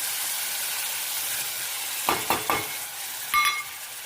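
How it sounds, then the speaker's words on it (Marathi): Whole spices sautéing with ginger-garlic-coconut paste and a slit green chilli in a pan for black chana curry, a steady hissing sizzle broken by a few sharp scrapes and stirring clatters. "याला आपण आता छानपैकी परतून घेऊया।"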